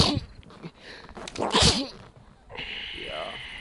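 A single sharp sneeze bursts out near the microphone during casual gaming chatter, with voices and game audio before and after it.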